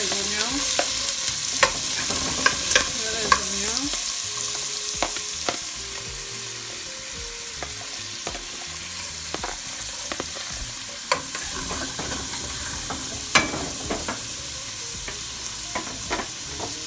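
Onions frying in a little butter in a pan while preparing a Cameroonian lobster and shrimp dish: a steady sizzle with repeated sharp clicks and scrapes of stirring, fairly close, with background music and no talking.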